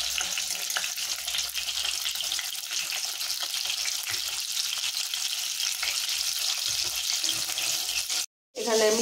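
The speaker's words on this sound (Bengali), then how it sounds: "টমেটোগুলো আস্তে আস্তে ভেজে নেব।" Tomatoes fry slowly in oil in a pan with a steady, close hiss of sizzling that runs evenly throughout, broken by a brief silence near the end.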